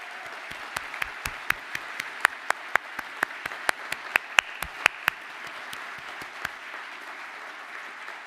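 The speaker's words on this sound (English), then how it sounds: "Can the class please now stand up for a well-deserved round of applause?" Applause for a graduating engineering class at a ceremony, a hall of clapping with sharp individual claps standing out near the microphone, fading toward the end.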